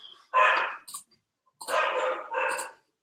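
Dogs barking in a few loud, close bursts, with short gaps of quiet between them.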